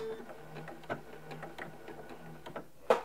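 A Janome M17 sewing machine locks its stitches with a quiet, rapid ticking run of needle strokes. A sharper clack follows at the end as it stops.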